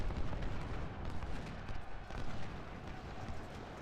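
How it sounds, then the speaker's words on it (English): Continuous rumbling barrage of artillery canister fire and gunfire from a Civil War battle in the Ultimate General: Civil War game, dense overlapping booms at steady loud level with no distinct pauses. "A lot of canister fire."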